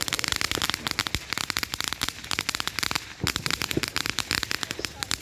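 Fireworks bursting in a dense, continuous barrage on bonfire night, rapid crackling bangs and pops one after another for the whole stretch with hardly a pause.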